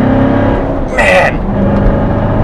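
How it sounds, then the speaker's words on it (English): A Z51 Corvette Stingray's engine revs under acceleration while being driven, a loud, sustained growl with a brief rising burst in the middle, heard from inside the car. "just listen to that engine note"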